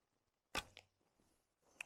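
An arrow is loosed from a Paragon Solak Turkish bow with a 58-pound draw at 10 meters. A sharp, close snap comes first, then a smaller thud, and a second crisp crack follows near the end over near silence.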